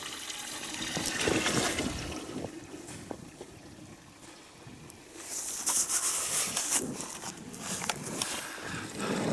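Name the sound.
water running from a hose to fill troughs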